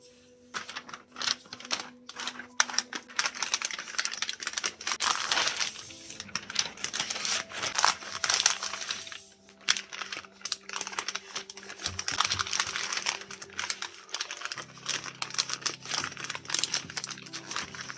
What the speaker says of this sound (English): Now it's time to wrap it up in butcher paper.